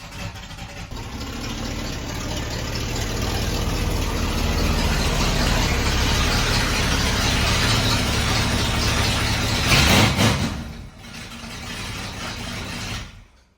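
A 1982 Ford Bronco with a big cam runs with a loud, rough, steady rumble, briefly dropping off near the end before picking back up, with nobody talking over it.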